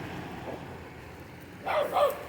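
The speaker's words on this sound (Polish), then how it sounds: "Piesek mnie oszczekał." A small dog barks twice in quick, sharp yaps near the end, fairly close, after a stretch of quiet background.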